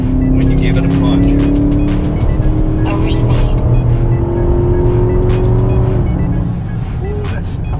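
A powerful 550-horsepower Range Rover SUV engine revs hard and holds a rising drone, loud and close, with clicks and rattles over the roar before it eases off.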